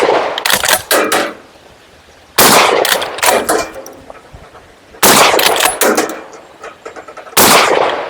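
A Silver Eagle XP-15 shotgun fires slugs at an outdoor range, four very loud, sharp blasts spaced a couple of seconds apart, each trailing off into echo and clatter.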